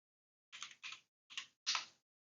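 Four short bursts of computer keyboard typing while a terminal command is entered, each flurry of keystrokes close and fairly quiet, with brief gaps between them.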